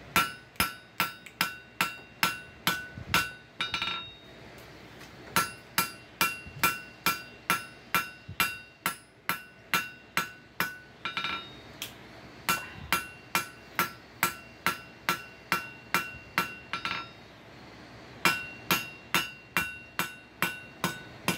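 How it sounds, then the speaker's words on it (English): A hammer planishes mild steel scrolling tong blanks with steady, ringing metallic strikes in quick bursts of several blows, separated by brief pauses, close and clear with no talk. "Now be careful planishing too much, because it's just like peening, it'll work harden."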